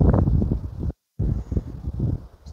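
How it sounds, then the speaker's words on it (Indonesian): Strong wind in a forest during mushroom foraging, loud gusty buffeting against the microphone with rustling, broken by a brief moment of total silence midway. "angin kencang."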